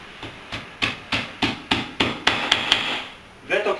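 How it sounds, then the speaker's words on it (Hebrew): A hammer taps a plastic wall plug into a drilled hole in a wall while mounting an IKEA shelf on a hidden bracket, about ten sharp, evenly spaced knocks, close and distinct, with a faint rustle at the end. "ותוקעים את הדיבל במקום"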